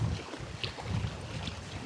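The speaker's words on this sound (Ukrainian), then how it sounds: "Да, вітер, звісно, роздувся." Strong gusty wind buffets the microphone in low rumbling bursts while fishing near Kremenchuk, with faint water noise and waves underneath and no talking.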